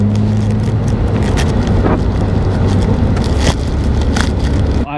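A Porsche drives along with a steady, loud engine and road rumble throughout, wind buffeting mixed in, ending with a brief shift in tone near the close.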